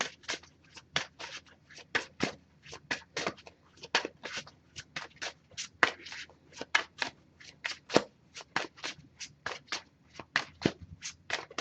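A deck of oracle cards is shuffled by hand in quick, close, crisp riffles and flicks, a steady run of soft papery bursts repeated over and over with no voice.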